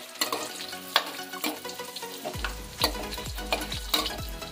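Potatoes frying in oil in a pan over a medium flame, a close sizzle broken by repeated scraping stirs of a spatula, with no talking.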